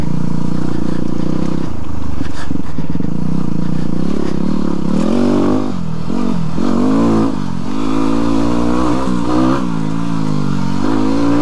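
A Yamaha WR250R trail motorcycle accelerating along an open stretch of trail, its engine loud and close, revving up and shifting with rising pitch and rattling over rough ground.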